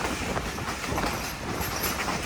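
The Thall Express, a three-coach passenger train running from Rawalpindi to Attock in Pakistan, rolls along the rails near Taxila Cantt Junction with a steady rumble and rhythmic clickety-clack of wheels, heard up close from on board.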